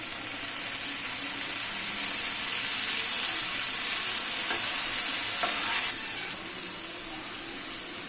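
Onions and tomatoes fry in a pan for egg kothu parotta, a close, bright, hissing sizzle that runs on steadily with a few soft stirring scrapes and no talk.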